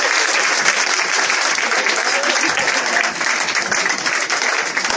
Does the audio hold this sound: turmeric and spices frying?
no